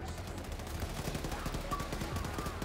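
Rapid gunfire from a powerful gun in the first-person shooter Wolfenstein II, a steady dense stream of shots with no pause, running throughout at moderate level with no talking.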